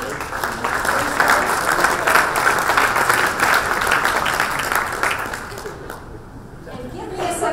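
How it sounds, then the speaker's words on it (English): Sustained applause from a town hall audience on economic security, steady dense clapping that thins and fades toward the end, with a brief voice near the close. "give yourselves a round of applause"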